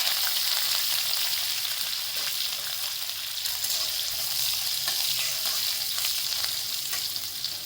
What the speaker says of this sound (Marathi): मोहरी तडतडली की पाव चमचा हिंग टाकून घेते कढीपत्ता टाकून घेतो